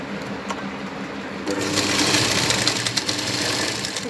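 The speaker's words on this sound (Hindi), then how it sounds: "सबसे पहले हम इसे इस तरीके से करते हुए पूरे गले में पहले यहाँ सिलाई लगा लेंगे" A sewing machine runs in a steady, rapid rattle while stitching around a blouse neckline, starting quietly and then growing louder and continuous for the rest of the clip.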